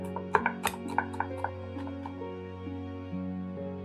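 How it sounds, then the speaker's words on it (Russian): A knife chops dill on a board in several quick sharp taps, then stops, while a steady low hum continues underneath. "Пучок укропа нарезаю помельче."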